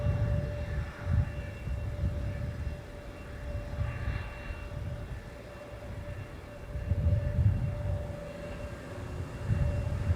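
An Embraer E175LR airliner taxis at Minneapolis–St. Paul airport, a low, steady engine rumble heard from a distance, with gentle surges and a faint constant whine above it.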